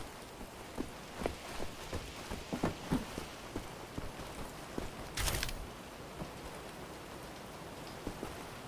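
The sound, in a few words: rain falling indoors in the video game Wolfenstein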